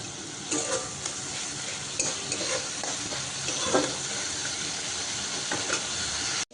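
Spices being stirred with tomato in a hot pan, giving a continuous soft sizzle with repeated scraping and clinking strokes of a spoon against the pan at an uneven rhythm, fairly quiet and close.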